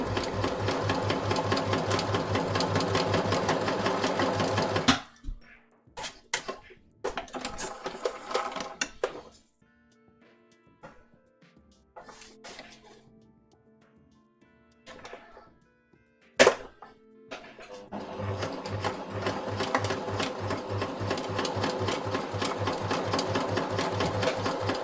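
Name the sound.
sewing machine running while sewing a waistcoat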